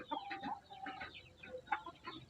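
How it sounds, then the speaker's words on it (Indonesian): Free-range village chickens kept for meat, chicks and eggs cluck and murmur nearby in a steady, overlapping chatter of short calls, fairly quiet and with no voices over them. "Kita di sini beternak ayam kampung untuk pedaging ataupun untuk dijual DOC dan dijual telurnya."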